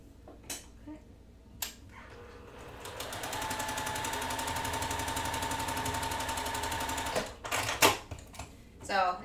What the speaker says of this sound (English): So now we're gonna sew these together here with these beautiful rectangles like so.